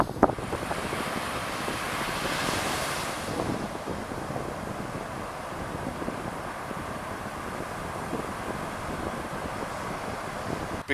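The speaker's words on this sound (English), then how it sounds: "And it's windy. The wind is coming in from the sea." Strong wind blowing in off the Bay of Bengal across a beach at Chilika Lagoon, buffeting the microphone in a continuous roar with surf beneath it, steady throughout and without voices.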